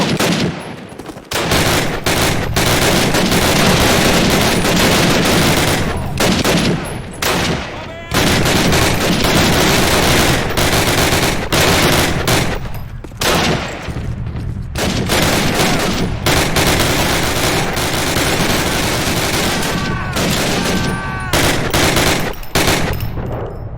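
Dense, loud gunfire in a Call of Duty battle: sustained machine-gun bursts and rifle shots nearly nonstop, with a few short pauses and shouted voices mixed in.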